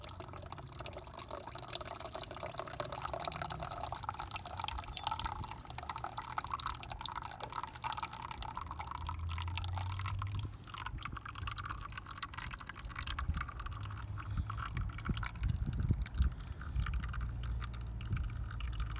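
Water drains steadily out of a 1958 Massey Ferguson 50 tractor, a faint continuous trickle and patter of dripping liquid with small splashes throughout.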